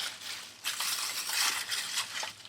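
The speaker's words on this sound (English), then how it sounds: "It's going to start patting this outside edge here" Plastic bag being patted and crinkled against the outside edge of a giant homemade Hershey's Kiss, a noisy, broadband rustling in irregular bursts up close, with no talking.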